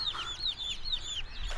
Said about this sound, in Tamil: கோழி குஞ்செல்லாம் பறக்குதுடா